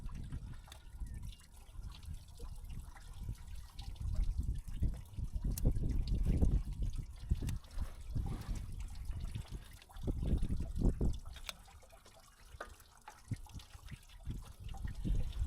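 Antifreeze coolant from a hay equipment engine hose draining in a continuous low, gurgling trickle and splash, nearby and fairly quiet, with no speech.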